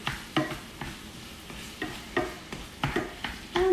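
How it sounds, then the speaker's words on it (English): Ground beef browning in a pan, with a soft continuous sizzle punctuated by regular scraping strokes of a utensil turning the meat, close and moderate in level. "The ground beef is nicely getting browned."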